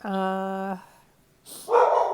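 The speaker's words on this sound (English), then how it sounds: "my poor dog barks all the time." A dog gives one long, loud, drawn-out bark close by, followed by a pause and then a voice speaking.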